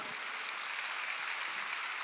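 A church congregation claps hands together at a worship service, a steady, dense patter of many palms spread across the room, with no voices rising above it.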